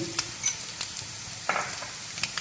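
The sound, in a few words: spices being stirred and frying with shrimp in pan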